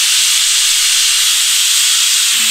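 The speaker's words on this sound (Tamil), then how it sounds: "பொடி விசில் போட்டுட்டு ஒரே சவுண்டு தான் நம்ம அடுப்பு ஆஃப் பண்ணிடணும்" A pressure cooker cooking sword beans vents steam in one continuous loud, close hiss that stays steady throughout, with no voices over it.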